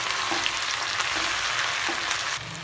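Ginger-garlic paste and fried onions stirred in a hot pan make a continuous close sizzle with faint scraping of the spoon, alone without any talk.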